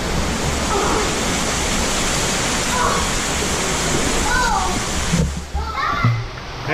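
An underground waterfall in Eden Cave roars as a loud, constant rush of falling water, with children's voices faintly heard over it near the end.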